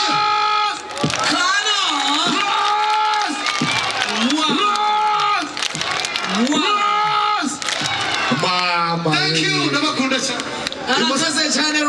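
A dense crowd cheers, shouts and whoops at a live concert in Musanze, loud and continuous across the whole stretch with voices rising and falling in waves.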